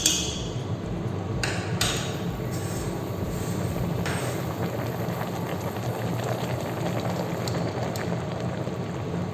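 A Thai vegetable curry simmering in a pot gives a steady, dense bubbling and popping texture, continuous and close, with a few brief clinks over it and no voices.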